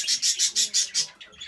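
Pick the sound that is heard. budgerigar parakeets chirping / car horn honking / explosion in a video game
budgerigar parakeets chirping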